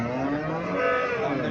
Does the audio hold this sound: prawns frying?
no